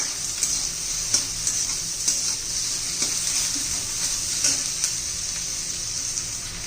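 Chopped onion sautéing in a pan for a Maharashtrian Bhogi mixed vegetable dish, giving a steady close sizzle with light stirring scrapes throughout and no talking.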